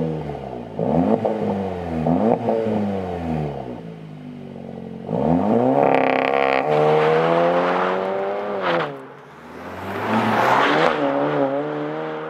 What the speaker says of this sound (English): Join us for a driving review of the Cupra Ateca facelift.